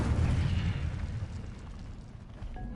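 A fire spell blast in Hogwarts Legacy, a loud roaring burst that swells at the start and slowly tails off into a rumbling wash, with no talking.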